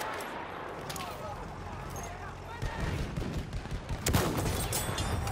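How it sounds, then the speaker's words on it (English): Enemy machine gun fire in a war video game crackles in sharp bursts through a busy battle soundscape, growing denser and louder toward the end, with shouted voices over it. "Enemy machine gun over there!"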